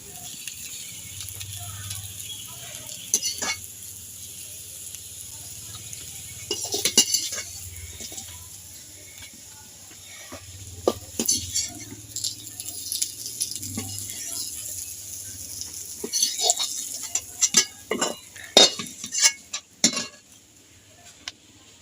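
Fried vegetables for shukto are lifted from a pan with a metal utensil, giving scattered clinks, scrapes and rattles against the cookware, sparse at first and busier toward the end, heard close over a faint background hum.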